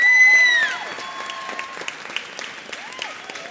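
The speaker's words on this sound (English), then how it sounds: "So we give them one more round of applause." A middle school popular music concert audience claps for the school band. A brief tonal sound opens, then sparse, scattered claps trail off quietly.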